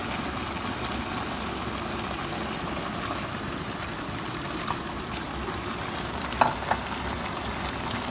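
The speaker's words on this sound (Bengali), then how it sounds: "গ্রেভি হয়ে গেছে, ডিমগুলো ছেড়ে দিব।" Eggs dropped into bubbling egg korma gravy set off a constant, dense sizzle and frying hiss that runs unbroken throughout, with a couple of faint clinks near the end and no speech.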